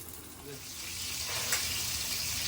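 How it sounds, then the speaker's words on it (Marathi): Pomfret fish frying in oil in a pan, a steady hissing sizzle that swells gradually and holds at a moderate level, with faint background murmur. "आणि अशा प्रकारे सगळे पापलेट फ्राय करून घेते"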